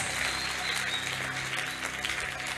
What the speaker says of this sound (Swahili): Ongeza makofi kwa Mungu ale hai.